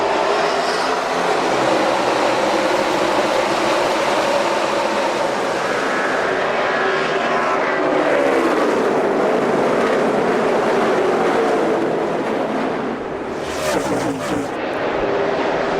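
NASCAR stock cars racing at the Brickyard late in the race, a continuous loud roar of engines with a rising and falling pass-by sweep, dense and crowd-filled, under a commentator's voice.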